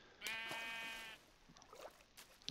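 A Minecraft sheep lets out a single close, wavering bleat, followed by a few soft game clicks and thumps.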